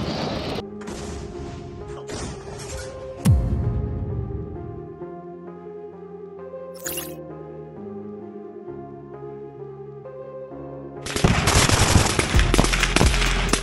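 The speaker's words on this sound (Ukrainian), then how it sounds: "Пострел!" Bursts of gunfire from fighting in Ukraine near Bakhmut, loud rapid volleys at the start and again near the end, with a sustained musical tone running through the middle.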